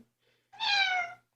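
A shy house cat gives one drawn-out meow of about half a second, close and clear, in an otherwise quiet room with no talking.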